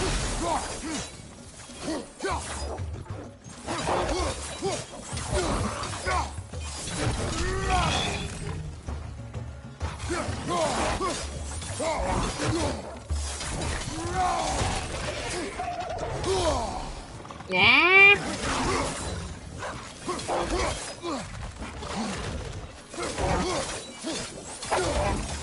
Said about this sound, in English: Boom. Smashing.